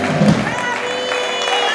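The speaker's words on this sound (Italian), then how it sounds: "dedico questo applauso a mia moglie e a mia piccola Mirella" Audience at an orchestra concert applauding and cheering, a continuous crowd roar with clapping, while a voice speaks over it near the start.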